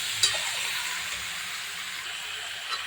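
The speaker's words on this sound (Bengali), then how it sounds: "নাড়াচাড়া দেবো, একটু ভাজা ভাজা হবে দেখুন" Steady sizzling of chicken frying in a pan, a continuous hiss with faint scraping as it is stirred, no voices.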